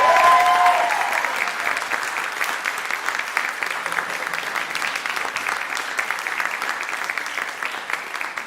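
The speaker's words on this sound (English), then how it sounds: "Applause, applause." Audience applause, steady and fairly close, sustaining as continuous clapping for several seconds after a brief horn-like tone at the start.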